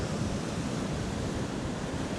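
Waves break and wind blows along the Northumberland coast shore during shore fishing, making a continuous broad roar of surf and gusting air with no voices.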